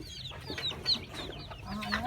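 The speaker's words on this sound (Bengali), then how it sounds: "মুরগির মাগুলা সাইডে সাইডে ঘুরতেছে" Hens cluck quietly in short, scattered calls amid a busy farmyard, with faint high chirps from chicks in the background.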